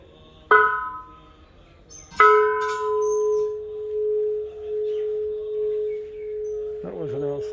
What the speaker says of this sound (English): That was an outstanding bell ring